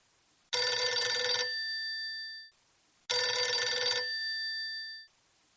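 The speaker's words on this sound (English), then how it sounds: "The telephone rings." An old-style telephone bell rings twice, each loud, clanging ring lasting about a second before decaying, with a brief silence between the two rings.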